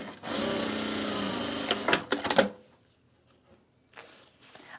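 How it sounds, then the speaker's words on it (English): A sewing machine runs a steady whirring hum while winding a bobbin for a self-drafted bag, close and even for about two seconds, then a few clicks and a stop, leaving near silence. "I was worried I didn't set my my bobbin to wind."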